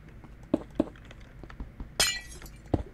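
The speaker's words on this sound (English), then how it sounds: "Now we have to break all this glass." Glass blocks breaking in the Minecraft video game: several sharp clinking cracks spaced through the clip, with one longer bright shattering burst near the middle, loud and close with no talk.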